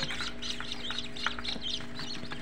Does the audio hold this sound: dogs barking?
no